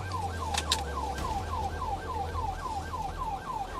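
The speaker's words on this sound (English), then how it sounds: "ignoring the patrol vehicle's emergency lights and siren" A police car siren wails in a fast, steady up-and-down yelp during a police chase, loud and continuous, with a low engine hum underneath.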